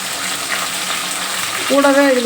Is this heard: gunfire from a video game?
no